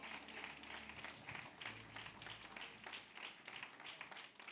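A congregation at a Sunday church service claps for the Lord. Fairly quiet, dense applause of many hands continues steadily from start to finish, with a low voice faintly audible underneath.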